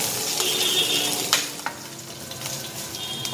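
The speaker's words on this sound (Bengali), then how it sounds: "শুকনো করে রাখা কারি পাতা দিয়ে দিলাম। এটা একটু ভেজে নিই।" Dried curry leaves frying in a pan, a soft continuous sizzle with a few sharp clinks and scrapes of a utensil against the pan, close and without talk.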